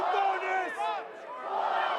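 A rugby stadium crowd roars and chants during a Major League Rugby match between the Seattle Seawolves and Old Glory DC, a loud, swelling mass of voices with commentary talking over it.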